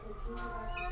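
A four-month-old female kitten at an animal shelter gives a short, close meow, a single brief cry that may overlap faint speech in the background.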